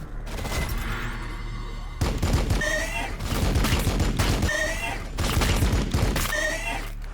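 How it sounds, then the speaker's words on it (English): Bursts of gunfire from Warhammer 40,000: Battlesector battle, repeated volleys of loud close shots in pulses, with a faint whinnying creature call riding over some bursts. "Resistance detected. Receiving fire."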